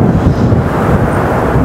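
Steady strong wind buffets the microphone outdoors, a constant low roaring rush with no pauses and no voices.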